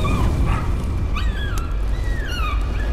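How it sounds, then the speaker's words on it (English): Hell hounds in the Layers of Fear video game bark and whimper loudly, a few sharp yelps and whining cries rising over a low rumbling background. "The hounds from hell have come out to play!"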